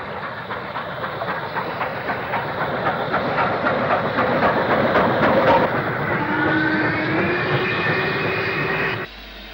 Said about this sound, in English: steam and the newly opened electric services together passing through Ditton Junction